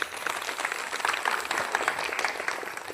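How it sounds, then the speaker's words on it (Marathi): An audience at a Republic Day gathering run by a volunteer organization in a village claps for the Indian Constitution, a steady, dense burst of many hands sustained for about three seconds at moderate loudness. "एकदा भारतीय संविधानासाठी जोरदार टाळ्या"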